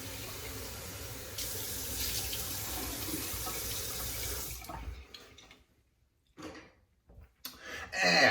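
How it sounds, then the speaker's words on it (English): A bathroom tap runs cold water into a sink for a post-shave rinse, a steady loud splashing stream for about five seconds that then cuts off, followed by faint drips and brief splashes. "We're gonna do a cold water rinse."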